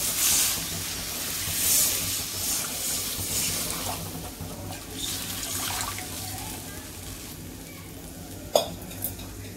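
Water splashes and sizzles into a hot pan of roasted gram flour on a low flame, followed by light stirring and clinks of a utensil against metal.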